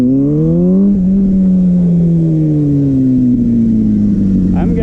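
A Kawasaki ZX-6R motorcycle engine revving on the throttle while riding, a loud, close, rising then slowly falling whine that holds steady.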